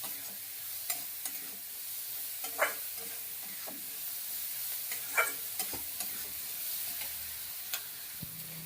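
A spice mix with chili powder is stirred in a pan over a gas flame: soft, quiet scraping strokes with a faint low sizzle and a few sharper scrapes.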